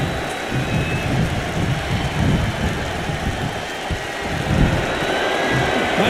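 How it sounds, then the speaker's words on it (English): Thunderstorm sound effect in the wrestling video game WWE 2K22, a steady, loud, rumbling wash of rain-like noise with low thunder swells and no talk. "Here comes the storm."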